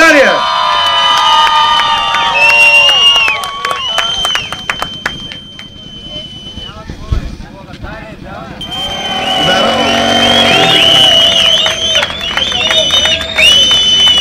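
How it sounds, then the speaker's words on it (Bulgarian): Crowd at a Bulgarian biker gathering cheers and whoops loudly, with an announcer's voice over the noise and motorcycle engines revving in the background, dipping briefly midway before swelling again. "Вашите аплодисменти за Боньо от Вагабонц."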